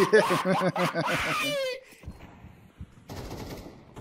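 Rapid automatic gunfire bursts from the Counter-Strike 2 video game during a competitive match, quick clattering shots under excited commentary and laughter, followed by quieter scattered game sounds.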